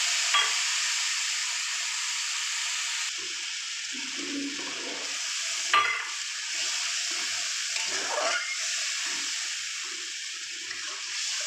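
Dried red chilies, mustard and nigella seeds fry in oil for shorshe ilish, giving a loud, continuous sizzling hiss broken by a few soft stirring knocks, with no talk.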